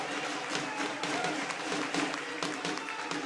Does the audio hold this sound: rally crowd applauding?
yes